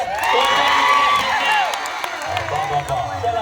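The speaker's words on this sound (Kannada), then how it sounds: "ಗುರುಕುಲ ಅಕಾಡೆಮಿ ಹರಿಯಾಣ ಟೀಮ್ ಗೆಲ್ತದನ್ನೋರು ಒಂದ್ಸಲ ಚಪ್ಪಾಳೆ ಕೊಡಿ" Crowd at a women's kabaddi final between ITBP and Gurukul Academy Haryana, cheering and clapping loudly throughout, a dense continuous roar of shouts and applause with an announcer's voice carrying over it.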